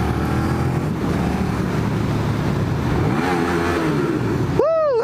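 A motorbike held in first gear, its engine restricted, revs loud and close with rising, bouncing harmonics until it slams into the rev limiter near the end, the pitch jumping and cutting in quick bursts.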